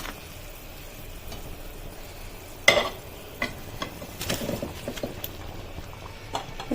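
Fried fish-roe koftas drop one by one into simmering curry, giving soft splashes and plops over a low bubbling background, with quiet gaps between each addition.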